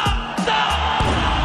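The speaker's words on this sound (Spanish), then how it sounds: "Quiero un ruido fuerte de todo Bogotá." A crowd in Bogotá at a Red Bull freestyle rap final shouts and cheers loudly in a sustained roar, dense and close, with bursts of yelling.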